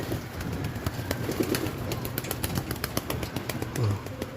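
Racing pigeons returning to a loft in rainy weather, with soft repeated cooing and scattered wing flaps and clicks nearby at moderate volume.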